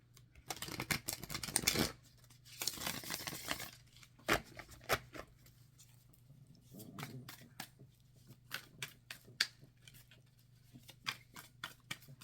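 A deck of flexible, slightly clumping tarot cards being shuffled by hand, with a few rushes of riffling followed by scattered soft taps and clicks, quiet and close.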